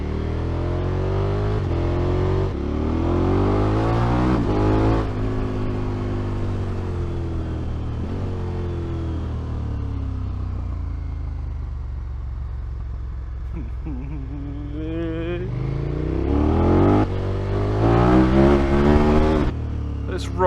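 Motorcycles ridden along a winding French road, their engines droning loudly and steadily throughout, rising in pitch as they accelerate and revving harder near the end.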